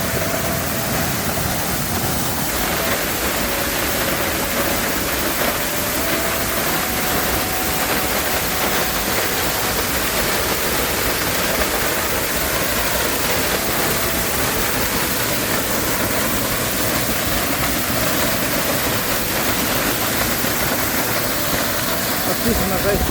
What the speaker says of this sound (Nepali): यो झर्ना है कति सुन्दर छ झर्ना।